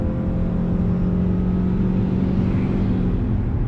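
A 2020 Ford Escape Hybrid accelerating in sport mode, heard from inside as a steady, droning engine hum with a firm tone that holds throughout.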